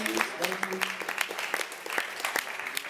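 Audience at a beat-making workshop session breaks into lively applause, with sharp individual claps clearly audible through the crowd and a few voices briefly underneath.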